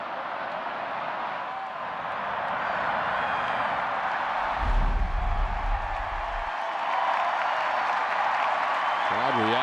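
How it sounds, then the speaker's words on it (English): A baseball crowd at Fenway Park in Boston reacts to the scoreboard during a Twins game, a broad, steady murmur and cheer that swells partway through, with a commentator talking over it. "Crowd reacting to the scoreboard as the Orioles right back in it again"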